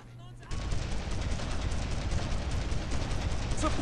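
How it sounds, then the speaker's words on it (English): Gunfire in the World War II shooter Brothers in Arms: Road to Hill 30 bursts in suddenly after a brief quiet moment, then continues as a dense, loud, sustained rattle of rapid shots. "Suppressing fire."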